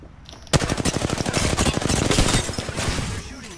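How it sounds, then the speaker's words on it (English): A Prowler SMG in the Apex Legends video game firing: an abrupt onset of rapid, loud gunfire in quick bursts, a dense rattling stream of shots that tapers into echo. "Prowler SMG here. Five round burst."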